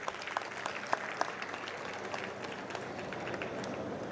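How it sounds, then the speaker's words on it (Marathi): Audience applause at the inauguration ceremony of an advocate academy, a steady wash of many hands clapping in a hall, fairly even throughout with a few sharper claps standing out early on. "परत एकदा त्यांच्या टाळ्या झाल्या पाहिजे"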